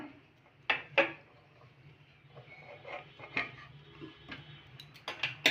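Spoon scraping and knocking in a pan as butter is worked into freshly cooked rice-flour dough, a handful of sharp close taps among soft rubbing, quiet and without talk.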